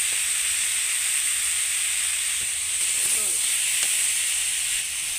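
Steady hissing sizzle of cumin powder and spices hitting hot oil in a pan, continuous and fairly loud, with a few faint knocks and clinks in the background.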